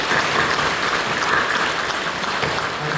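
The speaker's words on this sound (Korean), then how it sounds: "우리 사랑하며 격려하며 박수해 주시고" A church congregation at a Sunday worship service applauds in encouragement, steady, full clapping that stays even and continuous throughout.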